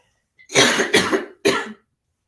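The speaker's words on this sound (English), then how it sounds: "it's just a cough" Three harsh coughs close to the mic, the first two run together and the third after a short pause, then silence.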